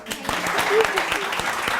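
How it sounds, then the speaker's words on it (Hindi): A short burst of studio audience applause on a morning TV show, dense clapping with voices mixed in, fairly close and steady. "तालियां।"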